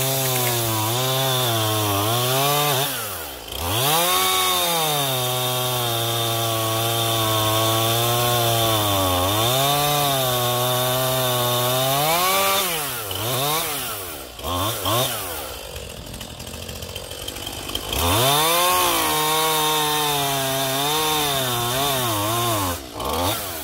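Chainsaw felling a storm-damaged birch, the engine loud and close with rising and falling revs as it bogs into the wood and frees up, with a short break in the cutting near the middle.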